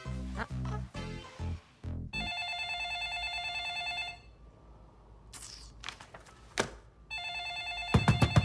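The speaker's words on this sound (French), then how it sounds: "Le téléphone!" A telephone bell rings in repeated bursts with pauses between them, loud and close, alone with no talk over it.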